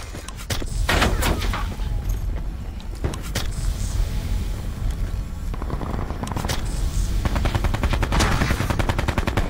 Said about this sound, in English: I don't know where they're shooting from, dude.